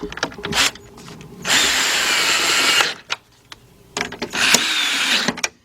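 A power tool tightening headlight screws on a 2010 BMW 528i, sounding as two high-pitched whirring bursts of about one to two seconds, separated by clicks and handling noises.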